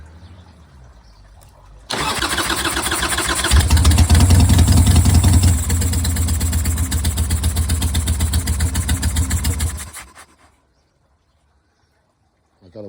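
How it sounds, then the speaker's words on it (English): A Harley-Davidson motorcycle engine cranks with the throttle held open, a loud, rapid, continuous churning that grows heavier partway through, runs about eight seconds, then cuts off into silence. "to start the bike with open throttle"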